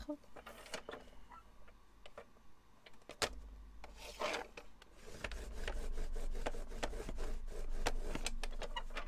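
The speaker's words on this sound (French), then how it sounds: "On vient prendre également son plioir. On fait un pli à 1 cm." A bone folder presses and rubs a crease into a paper gift card for a pop-up card, soft scraping strokes and a few sharp taps, fairly quiet and close, with a steady hum growing later.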